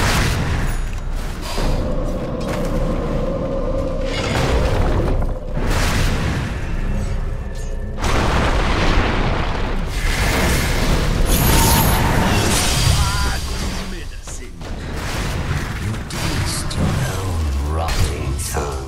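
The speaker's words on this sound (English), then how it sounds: "Dire's middle tower's under attack" Towers under attack in a Dota 2 match, with dense booming explosions and clashing combat effects rolling continuously at a steady loud level, a few sharper bursts standing out.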